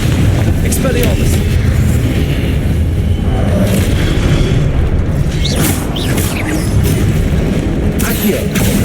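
Repeated explosive blasts from Confringo spells in the Hogwarts Legacy video game, loud booming bursts recurring over a dense, continuous background of game noise.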